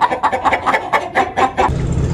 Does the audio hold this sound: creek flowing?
no